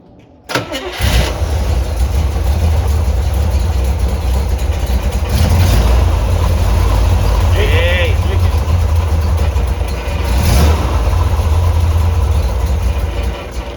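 A Chevrolet Corvette C3 engine, started for the first time in two years, idles slowly and roughly with a steady loud rumble throughout, as people talk over it.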